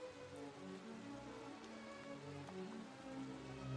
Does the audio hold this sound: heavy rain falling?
yes